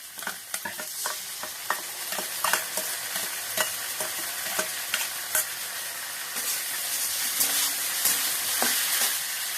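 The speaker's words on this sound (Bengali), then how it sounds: "পেঁয়াজ আলুটা ভাজা ভাজা হয়ে গেছে। এর মধ্যে দেবো বেটে রাখা আদা জিরে আর টমেটো বাটা।" Onions and potatoes sizzle steadily in a pan with ginger, cumin and tomato paste, the frying kept up under repeated sharp scrapes and clinks of a stirring spoon, with no voices, for a gourd and rohu fish-head curry.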